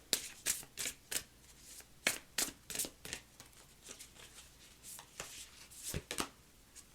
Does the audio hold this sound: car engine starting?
no